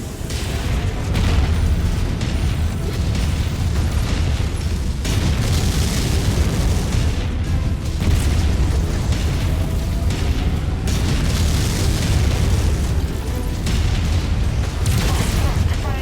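Continuous heavy booms and blasts fill a MechWarrior 5 battle as targets are destroyed, a loud and dense barrage with rumbling low end throughout.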